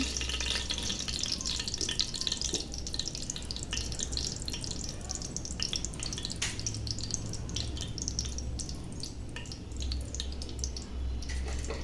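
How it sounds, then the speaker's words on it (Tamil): Whole spices frying in oil over a medium flame for quail biryani, giving a soft, steady sizzle and crackle with light scattered pops, heard alone and fairly quiet throughout. "இந்த ஸ்பைசஸ்லாம் நல்லா ஃப்ரை ஆகி வருது"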